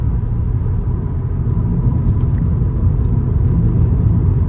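A VW Polo GTI hatchback driving through a curve, heard as a loud, steady low engine and road rumble from inside the car, with no talking.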